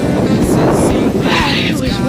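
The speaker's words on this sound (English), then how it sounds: "I'm here waiting for another big 50-mile-an-hour gust." Strong wind gusts in a windstorm roar steadily and loudly against the microphone, producing a dense, buffeting rush that swells and eases slightly across the moment.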